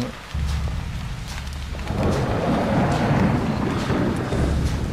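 Steady rain pours and patters in the horror video game Haunt, a dense continuous wash with low rumbling underneath that swells louder partway through.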